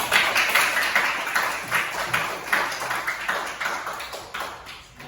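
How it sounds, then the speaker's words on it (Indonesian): Classmates at SMA PGRI 3 Purwakarta clap together in a classroom after a presentation, a dense, steady patter of many hands that gradually thins toward the end. "Oke, tepuk tangan teman-teman."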